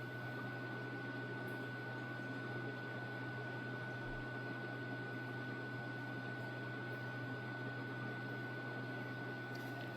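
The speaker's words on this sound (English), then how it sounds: "It's just the low rumble of the power supply fan." A steady, low rumble from a Monport laser engraver's power supply fan with a constant hum runs unchanged throughout, moderately quiet with no other events.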